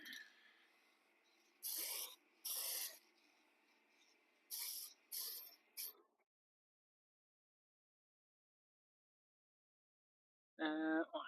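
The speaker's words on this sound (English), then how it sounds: "I need to respray that one." Short bursts of spray paint hiss from an aerosol can as car parts are painted in a garage, several separate blasts close to the microphone, followed by a long silence and a final burst.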